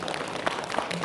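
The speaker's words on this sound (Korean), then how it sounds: "동의하시면 박수 한번 치고 가죠." Brief burst of audience clapping at a residents' meeting about an incinerator expansion, many hands together in a dense, roomy patter.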